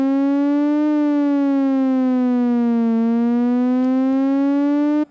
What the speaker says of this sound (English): it's a triangle wave which is modulating the pitch of this oscillator 2